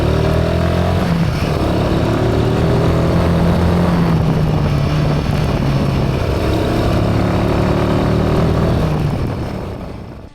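A truck on a mountain road in Nepal's Sinja Valley passes close by with a loud engine drone whose pitch rises and falls for about ten seconds, then fades slightly at the end.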